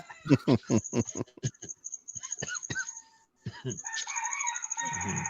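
A rooster crows loudly and close by, among clucking chickens, with a long drawn-out crow rising over the flock near the end.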